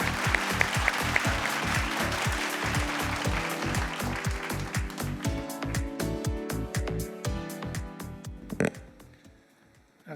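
An audience at a Forbes India corporate awards evening claps in sustained, close applause that slowly thins out, with tonal music rising midway before the clapping fades near the end.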